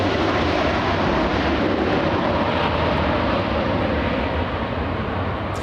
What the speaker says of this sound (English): they managed to put that 737 on the ground